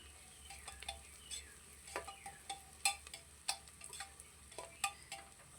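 Onion, ginger, garlic and green chili sauté in a pan for a pressure-cooker biryani, a quiet sizzle broken by scraping stirs and light spoon clinks against the metal at irregular intervals.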